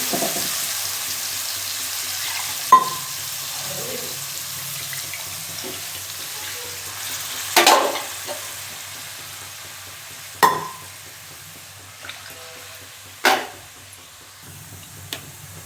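Garlic paste with tomato and onion sautéing for egg curry, a low steady sizzle broken by a few sharp scrapes of a spoon against the pan at irregular intervals.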